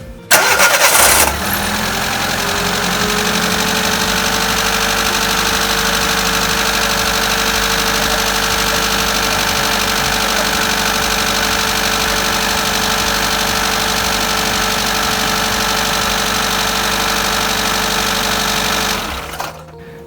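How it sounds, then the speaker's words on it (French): A car engine with an old twin static ignition coil cranks briefly, catches and then idles loudly and steadily for about eighteen seconds before cutting off, with no talking. "Démarrage avec l'ancienne bobine d'allumage jumeau statique."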